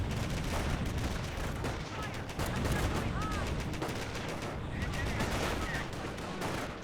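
Continuous distant gunfire and scattered shots rattle through a Company of Heroes 1 battlefield, a steady busy layer of combat noise at moderate loudness with no clear pauses.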